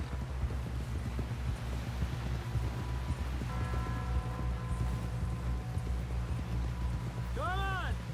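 Horse hooves clip-clopping in Red Dead Redemption 2, a steady, quiet trotting rhythm running throughout, with a voice speaking over it midway and a brief whinny-like sound near the end.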